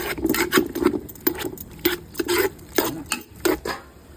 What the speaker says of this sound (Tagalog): Siyempre, ating kamatis, gigisin natin mabuti.